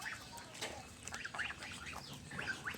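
A flock of ducks follows someone arriving home, giving repeated short nasal calls that come and go at moderate distance over a steady low rumble of background noise.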